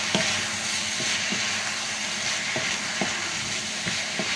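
Tomatoes for stuffed cannelloni sizzle in a pan on the stove, a dense steady hiss broken by several soft knocks of a utensil against the pan, close and fairly loud, no talk.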